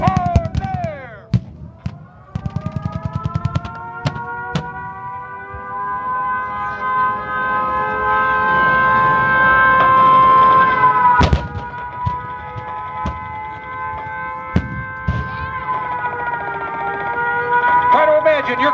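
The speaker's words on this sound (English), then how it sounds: "Listen to the sounds of battle. Hear the sirens, just as they did that fateful day." Air show battle re-enactment of the December 7, 1941 attack, with wailing sirens rising and holding over a constant rumble, sharp explosion bangs near 11 and 15 seconds, and steady crowd noise throughout.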